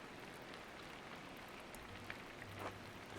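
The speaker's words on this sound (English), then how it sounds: "God, give me the strength to endure the rain." Steady rain falls in the game Pentiment, a dense continuous hiss of downpour with a few faint knocks near the end, no speech.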